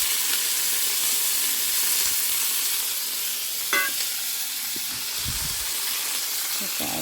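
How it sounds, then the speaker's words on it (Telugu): Green chillies and tomatoes fry in a pan for sesame chutney, giving a continuous bright sizzling hiss, with a brief scrape or clink of stirring partway through. "పచ్చిమిర్చి టమాటా ఫ్రై అవుతుంది"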